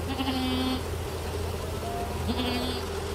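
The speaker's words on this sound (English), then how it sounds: "Yes, Tina, you're a good little goat" A goat bleats twice on a farm, close and clear, each bleat a wavering cry of under a second with a quiet pause between, over a low steady background rumble.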